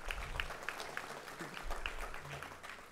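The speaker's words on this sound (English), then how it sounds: "one last round of applause for everyone" Conference audience applauding at the close of a keynote event, a steady wash of clapping from a crowd lasting the whole few seconds, moderately loud and without speech.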